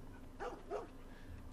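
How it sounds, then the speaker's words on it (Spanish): A dog in the video game The Last of Us Part 1 gives two short, faint barks in quick succession over a quiet background hum. "Hay un perrito ladrando."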